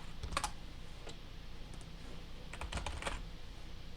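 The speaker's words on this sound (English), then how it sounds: "so I'll just type in, this is my new page" Computer keys clatter in short bursts of quick taps separated by pauses, close and fairly quiet, with no talking.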